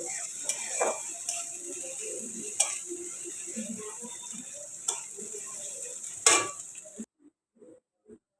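Sliced onion alone, with no other spices, frying in hot oil in a pan: a steady high sizzle with occasional scraping clicks from stirring, cutting off into near silence at the end.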